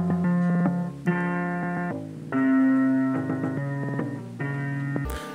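A melodic sample is chopped into choppy, gated segments by a Gross Beat effect in a Glaive and Ericdoa style beat, with sustained tones cut off abruptly at irregular points, clean and close.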